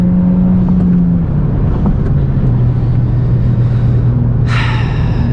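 A car running on its stock tune, after a stage 1 tune was removed, gives a steady, fairly quiet engine hum with low tonal drones, close and continuous, with a brief brighter hiss near the end.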